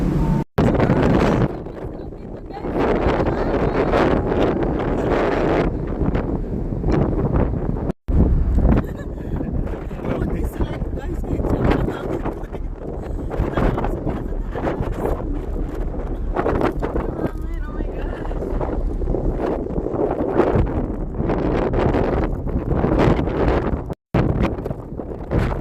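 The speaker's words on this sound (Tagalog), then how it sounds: "Dahil mahangin." Strong wind blowing across the deck of a passenger ship, buffeting the microphone in loud, rumbling gusts with brief dropouts, while voices talk intermittently underneath.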